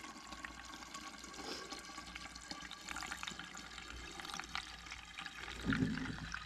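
Elderberry wine siphoned into a container, a steady trickle and pour of liquid running continuously, close and moderately quiet, with a slightly louder gurgle near the end.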